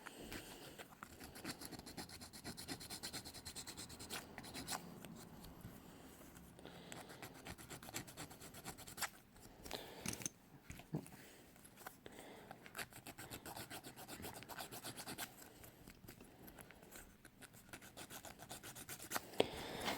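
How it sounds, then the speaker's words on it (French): A hand file rasps steadily against small model decor pieces, continuous scratchy strokes at close range but faint, with no voices. "je vais couper le temps de limer toutes mes pièces"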